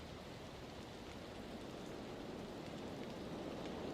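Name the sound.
rain sound effect in Valheim stream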